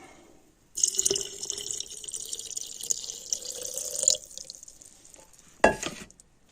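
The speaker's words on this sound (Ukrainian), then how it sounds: "Ще трошки води додати." Water trickles steadily for about three seconds as it is added to a chrysanthemum wine mixture, followed by a short, sharp clink near the end, with no talk.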